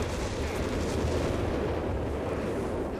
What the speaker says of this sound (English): Oh, huge barrage connecting right there on the very edge.